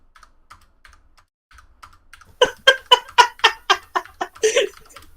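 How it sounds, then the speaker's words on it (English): Close computer keyboard typing, a few scattered light taps followed by a quick run of about a dozen sharp, evenly spaced keystrokes, alone without talk. "Typing them all manually."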